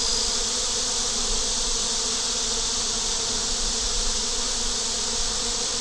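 A dense swarm of honeybees hums in hot weather outside their hive, a steady continuous buzz, close and unbroken, with no voices.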